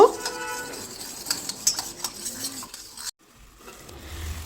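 A spoon stirs half a teaspoon of flour into milk in a kitchen pot, giving a busy scraping, swirling sound for about three seconds before it stops, with faint kitchen noise after.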